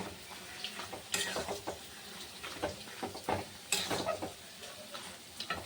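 Food is stirred in a pan with a light sizzle underneath, irregular scraping strokes coming close but faint, with a few sharper clinks standing out.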